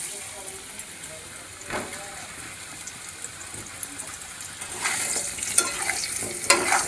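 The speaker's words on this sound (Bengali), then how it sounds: "এই তেলে মাছের আলুগুলো ভালো করে ভেজে নেব।" Potato chunks frying in hot oil in a kadai after fish heads were fried in the same oil, a soft continuous sizzle with bursts of louder crackling and stirring toward the end, fairly close.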